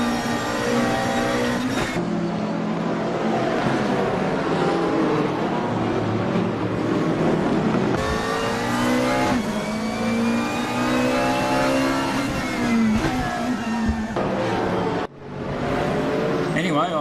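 Race car in the RaceRoom racing game powering onto the home straight for the final lap, engine whine climbing in repeated rising revs with sharp gear-shift breaks, loud and continuous, with a brief dip near the end.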